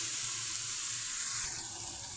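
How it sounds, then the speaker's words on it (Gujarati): Water pours steadily into Manchurian gravy in a cooking pot, a soft continuous splashing and trickle heard close up with no voices. "હવે આપણે તેમાં પાણી નાખીશું જરૂરિયાત મુજબ"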